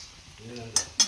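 Utensil stirring wild vegetables and green chilies in a pot over a wood fire: soft scraping and stirring, then two brief sharp metallic clinks near the end, close and fairly quiet.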